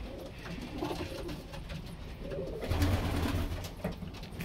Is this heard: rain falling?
no